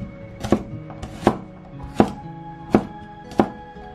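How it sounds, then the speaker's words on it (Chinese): Knife chopping garlic cloves into chunks on a cutting board, five sharp, evenly spaced chops that ring out clearly over faint background hum. "把大蒜给它切成块"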